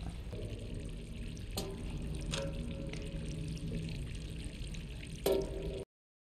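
Water pours steadily into a container in the video game Stray, a continuous splashing rush that holds a fairly even level, with a couple of brief clinks and a sharper splash near the end before it cuts off.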